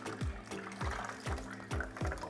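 A tang, a saltwater aquarium fish, is tipped into a bucket of water, giving a run of close, rhythmic splashing pours, about five in a row, with no talk over them.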